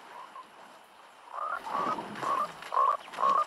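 A frog croaks in the Fortnite video game, a quiet start followed by a run of four or five rhythmic, throaty croaks that grow louder, heard alone without talk.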